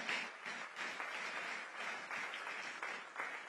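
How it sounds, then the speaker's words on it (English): Audience applause at the WAEC Distinction Awards ceremony in Ghana honouring top 2024 WASSCE students: steady, dense clapping from a crowd that carries on evenly and fairly quietly throughout, with no voices over it. "A round of applause for the rest of our sponsors."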